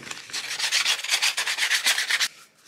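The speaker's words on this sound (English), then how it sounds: "I'm going to come in with my sandpaper." Sandpaper scrubs across tea-aged cardstock in quick, rhythmic back-and-forth strokes, a close, dry, hissing rasp repeated about a dozen times before stopping.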